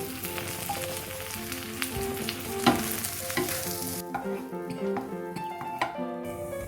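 Bread with cheese, Korean street food style, frying in a pan while it is turned; a steady close sizzle runs throughout with scraping and stirring knocks, no talking.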